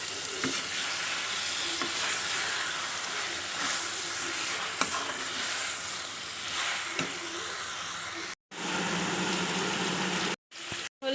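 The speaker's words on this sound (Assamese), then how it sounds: "এতিয়া মই মাংসখিনি দি দিম।" Local chicken pieces hit hot oil already frying with spices in a home kitchen, giving a loud, steady sizzle with stirring scrapes, cut by a couple of brief silent breaks near the end.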